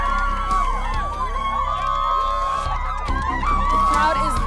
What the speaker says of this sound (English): The crowd is loving him.